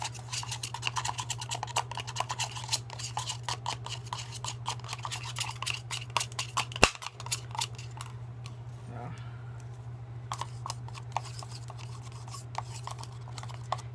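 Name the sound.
stirring a soap mixture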